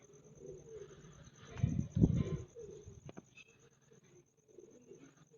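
Pigeons coo close by in a loft of birds for sale in Nimma Dyaun, Bathinda, a burst of throaty coos building in the middle, with faint chirps and a little wing movement.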